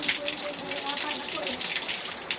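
Water is poured into a bowl for pet cats, a steady gushing splash close by that continues without a break and carries a faint bubbling tone underneath.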